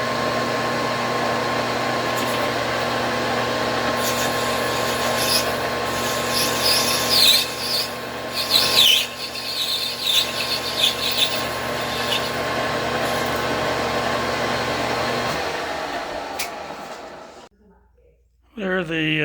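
Brass scrap is worked into a washer with a tool, giving scraping, rubbing strokes over a steady mechanical hum. A voice is heard at times, and everything drops to near silence at the end.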